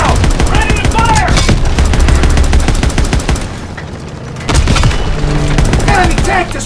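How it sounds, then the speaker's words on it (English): Dense automatic gunfire and heavy booms from a World War II tank battle in Call of Duty WW2, loud and continuous, with a short lull before the shooting resumes and shouted voices mixed in. "Take out that Panzer tank now! Ready to fire!"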